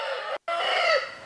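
A rooster at a country native-chicken breeding farm gives a single loud, close crow that is briefly broken by a short gap before the drawn-out final note.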